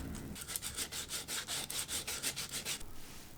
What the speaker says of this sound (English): Starting the sanding process with 60 grit.